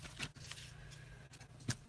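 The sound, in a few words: shuffling playing cards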